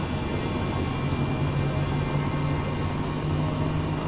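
A helicopter turbine in Microsoft Flight Simulator 2020 spools up with a steady, dense whine and rush that holds level throughout, loud and close with no talk.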